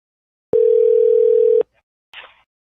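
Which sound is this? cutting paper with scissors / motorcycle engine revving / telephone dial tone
telephone dial tone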